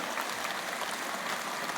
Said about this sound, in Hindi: प्यारे बच्चे, एक बार डॉक्टर साहब के लिए जोरदार ताली बजाओ